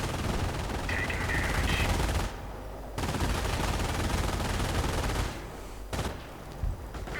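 Gunfire rattles through a World War II-style strategy game battle, dense bursts of machine-gun and rifle fire with explosions close by, continuing with brief lulls while someone commentates over it.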